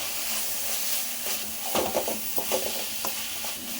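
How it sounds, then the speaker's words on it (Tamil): Onions and ginger garlic paste sauté in a pan with a steady, soft sizzle and hiss, while a utensil stirs and scrapes in irregular bursts close by, with no talking. "இப்போ 1 டேபிள் ஸ்பூன் இஞ்சி பூண்டு சேர்த்து இதையும் வதக்கிடலாம்."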